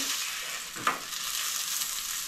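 Food frying in hot oil, a steady soft sizzle with a faint crackle partway through, close by and fairly quiet.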